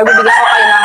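Close by at home, a rooster gives a loud, sustained crow that nearly drowns out someone talking at the same moment.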